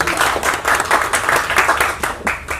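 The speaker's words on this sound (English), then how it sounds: "A big round of applause" An audience claps at a live event with Grammy winner Ricky Kej, a short burst of dense, even hand-clapping from a nearby crowd, with no voices.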